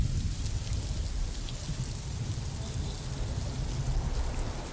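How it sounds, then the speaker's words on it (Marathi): Heavy monsoon downpour in Mumbai, falling over a waterlogged city area, makes a dense, steady hiss of rain with a low rumbling undertone. It is loud and unbroken throughout, with no clear voices. "ज्या पद्धतीने अतिमुसळधार पाऊस हा मुंबईत पडतोय"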